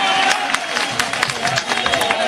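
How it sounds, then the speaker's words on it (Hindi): Crowd applause welcoming a speaker at a political rally, a dense burst of clapping with scattered sharp claps and crowd noise throughout. "जरा जोरदार तालियों से उनका स्वागत करें आप"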